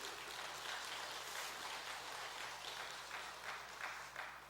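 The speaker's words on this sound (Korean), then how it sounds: "저는 20 몇 년 목회하면서 설교 중에 박수 받아본 건 처음입니다" Steady applause from a church congregation fills the room during a sermon at a maritime mission gathering, a dense, even patter of many hands, moderately distant and continuous for several seconds.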